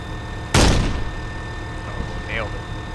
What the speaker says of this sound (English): So let's check out the HE cannon.